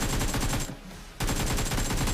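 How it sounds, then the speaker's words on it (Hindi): Shotgun blasts from a double barrel shotgun in the mobile battle royale game BGMI, a loud dense burst of firing that stops for about half a second and then resumes just as heavily. "ये बंदा डबल बैरल शॉटगन चला रहा है।"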